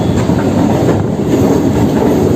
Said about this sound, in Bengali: ট্রেন বেঁকে যাচ্ছে